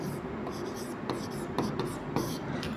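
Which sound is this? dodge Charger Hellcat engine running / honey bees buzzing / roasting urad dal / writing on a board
writing on a board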